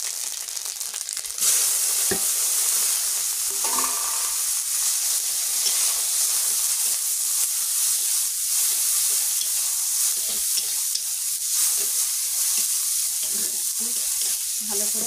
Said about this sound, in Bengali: এটা একটু ভালো করে কষাবো।